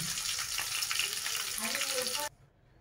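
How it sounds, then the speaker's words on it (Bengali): Bhola fish frying in hot oil in a pan, with a steady close sizzle and crackle throughout that cuts off abruptly near the end. "চলো মাছটা একটু ভাজা হোক, এপিট ওপিট করে ভেজে নিই"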